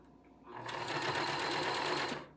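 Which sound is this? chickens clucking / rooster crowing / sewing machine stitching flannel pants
sewing machine stitching flannel pants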